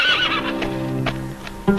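A horse in the streets of old Valparaíso gives a loud, wavering neigh up close that trails off, followed by a short snort near the end.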